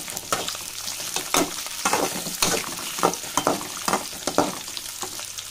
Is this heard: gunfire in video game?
no